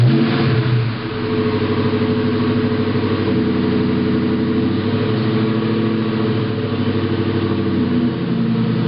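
A 2003 Ford Mustang Mach 1 V8 with a FlowMaster exhaust rumbles loud and close, held at a steady raised rev with a deep burbling note and slight surges, no talking.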